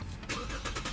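Lexus IS350 F Sport with a 3.5-liter V6, push-button started: a brief low rumble of the engine catching and settling into a steady idle, close and fairly quiet, without talk.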